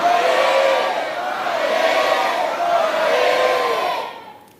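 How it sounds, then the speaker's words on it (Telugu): A church congregation with right hands raised shouts amen together three times, loud drawn-out massed voices rising and falling in three waves before fading to quiet. "ఒకసారి గట్టిగా మీ కుడి చేయి పైకెత్తి 3 సార్లు గట్టిగా కేకలు పెడుతూ ఆమేనానండి"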